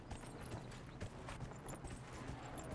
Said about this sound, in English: I think this is like the only race in the game, actually. Horse race.